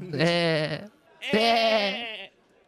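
In a VR role-play game, a voice imitates a goat's bleat in two drawn-out, wavering calls with a short pause between them, loud and close.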